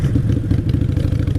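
A Harley Sportster motorcycle runs over a pylon, its engine rumbling steadily close by with rapid clattering thumps from the impact.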